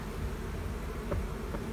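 A close, steady buzz of honeybees at a hive during honey collection hums continuously, with a few louder passes near the microphone.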